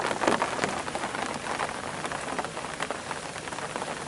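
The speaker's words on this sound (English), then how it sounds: "So yeah, Nick's going to stick this one out as the rain comes down again." Steady rain comes down on a riverbank during a carp fishing session, a dense, even patter with close drops tapping on a nearby surface and no voices.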